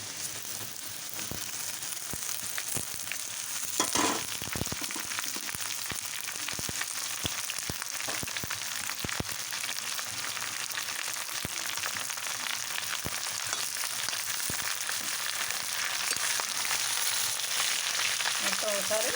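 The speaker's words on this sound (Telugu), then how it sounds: "ఇప్పుడు కట్ చేసుకున్న పొట్లకాయ ముక్కలు వేసుకోవాలి" Cut ridge gourd pieces fry in a pan with a constant close sizzle. Scattered clicks and scrapes of stirring run through it, and no one speaks.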